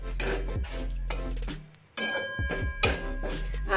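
A spoon scrapes and clinks against a dry pan as besan (gram flour) is stirred and dry-roasted over low heat, a close, busy run of metallic scraping with a brief lull in the middle.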